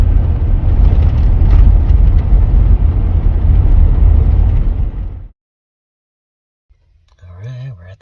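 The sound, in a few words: car driving, heard from inside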